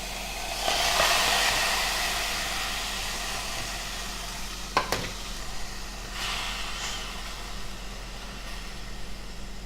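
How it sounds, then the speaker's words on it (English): Pineapple pieces hitting a hot pan on medium heat for crepe filling, a steady broadband sizzle that swells then settles, with a sharp clank of a spatula partway through, no voices. "you're going to put this on medium heat. You're going to take a spatula, and you're going to add in your pineapple."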